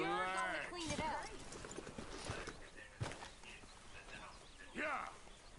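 Horse hooves clip-clop at a walking pace in the video game Red Dead Redemption 2 on PS4, steady light clopping under frequent character dialogue.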